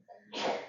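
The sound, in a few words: sneeze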